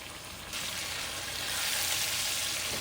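Flank steak frying in a hot pan, a close and steady hiss of sizzling fat that swells suddenly and then holds at an even level.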